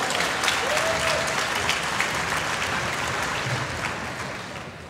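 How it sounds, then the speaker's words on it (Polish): Sustained, loud clapping from a large gathered audience at a film festival meeting, thick and continuous for several seconds before easing slightly toward the end, with a faint voice briefly audible beneath. "Brawa, dziękuję bardzo."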